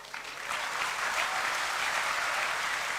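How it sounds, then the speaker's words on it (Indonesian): Steady audience applause at a Ramadan iftar gathering at Gontor, a dense wash of many hands clapping that builds quickly and holds evenly throughout, with no voices on top. "Nah kalau gitu baru tepuk tangan."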